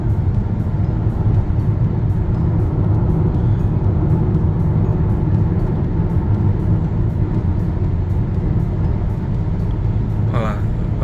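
A 2021 Honda HR-V EX running at highway speed, a loud steady low engine and road drone filling the cabin throughout, with a faint rising squeak near the end.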